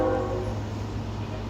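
A passing train sounds its horn: a sustained tonal blare over a steady, loud low rumble that fills the whole moment, with no talking.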